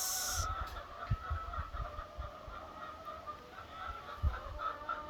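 Inside a chicken house holding about 2,600 two-week-old chicks, a constant mass of faint peeping and chirping continues, with low thumps and shuffling underneath.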